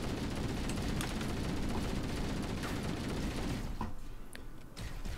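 Heavy, continuous barrage from a Wraith tank's plasma cannon in Halo 1, dense booming blasts for several seconds, then a thinner, quieter stretch with scattered hits.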